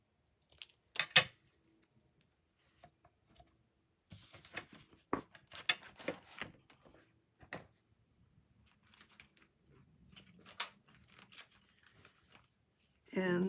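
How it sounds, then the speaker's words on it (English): Paper being cut and handled for a handmade card, with scattered crisp snips, rustles and small clicks close by, sparse and irregular across quiet gaps. "And let's cut a little bit off of this end."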